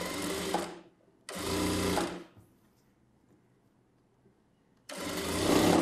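A sewing machine stitches piping onto a blouse in a tailoring session, running in three close, loud bursts of steady motor whir separated by short pauses.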